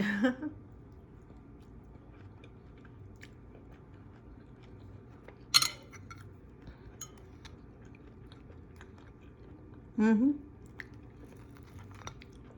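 Quiet, close chewing of a dish with mozzarella cheese over a low background hum, with a couple of brief crunchy bursts standing out; no speech.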